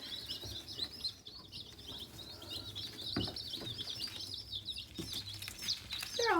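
Baby chicks peeping under a brooder, a steady stream of high, thin cheeps carrying on throughout at moderate distance, with light shuffling and a few soft thumps beneath.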